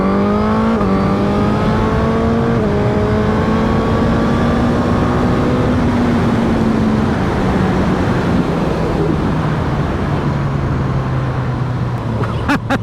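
A Suzuki GSX-S1000 motorcycle engine revs up loud and close, its pitch climbing and holding high before easing down in one sustained, continuous roar.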